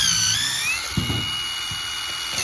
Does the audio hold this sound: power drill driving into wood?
yes